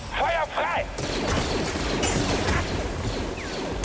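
Blaster fire in the video game Star Wars Jedi: Fallen Order comes as a loud, dense barrage of shots and impacts with whooshing effects, mixed with in-game clatter and layered over a busy battle soundscape.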